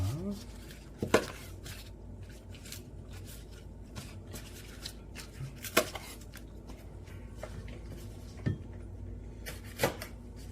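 A knife chopping spring onion into large pieces on a cutting board in a kitchen, a few separate sharp cuts spaced irregularly over a low background hiss, close by.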